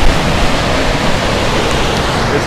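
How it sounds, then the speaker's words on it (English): Tapeats Creek in the Grand Canyon rushes loudly and close by, a dense, unbroken roar of flowing water with no voices over it. "There's the creek."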